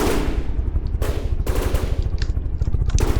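Rapid automatic cannon fire from a B-25 bomber in the video game From the Depths, a loud, continuous stream of closely spaced shots with brief pauses near 1 and 1.5 seconds before the firing resumes.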